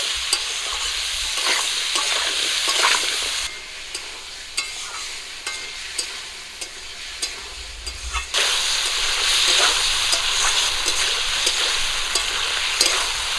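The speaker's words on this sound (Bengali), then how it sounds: "লবণ হলুদ দিয়ে ঝিঙে আর আলুগুলো ভালো করে ভেজে নেব" Ridge gourd and potato pieces fry in a pan with turmeric and salt, giving a steady, close sizzle broken by repeated scraping stirs, with no talk.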